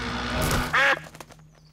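A cartoon duck in a Peppa Pig episode gives one loud, short quack after a brief burst of voice-like sound, then fades into quiet background.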